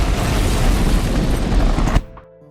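A loud, dense roar of explosions and blasts around a mocked-up Harley-Davidson in an X-Men Wolverine film rumbles continuously, then cuts off abruptly, leaving a faint tonal hum.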